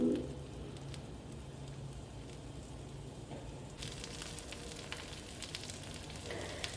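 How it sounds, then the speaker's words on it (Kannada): Two fish in masala sizzle and fry in a pan, a steady, fairly quiet crackle with a brighter spitting burst in the last few seconds, no voices. "ಎರಡು ಮೀನು ಹಾಕ್ತಾ ಇದ್ದೀನಿ"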